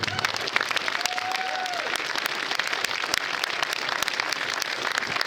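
Sustained crowd applause fills a hall at a baseball hall of fame induction ceremony, dense steady clapping throughout, with a brief faint voice or whistle near the start.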